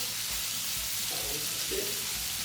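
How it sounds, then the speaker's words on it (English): Butter and diced apples frying in a pan, a constant soft hiss of sizzling with faint low thumps, no voices. "we're just going to pop in the butter first. And it doesn't even have to melt down, you just add in the diced apples"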